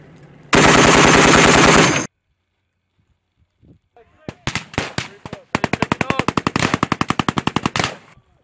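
Machine guns fire during Marine Corps training: one loud sustained burst, then a pause, scattered single shots, and a long rapid rattling volley of close, sharp reports.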